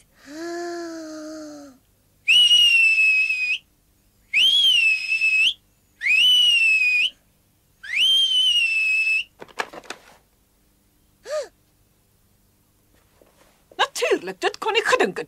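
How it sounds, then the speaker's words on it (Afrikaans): A person whistles through their fingers, several loud sustained rising-and-falling notes in a row with short pauses, followed by softer breathy sounds and a brief chirp. "Hans het saam met jou gefluit."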